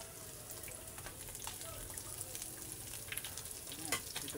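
Fish fries in a pan with a steady soft sizzle and scattered crackles, moderately close and fairly quiet, with a little faint background noise.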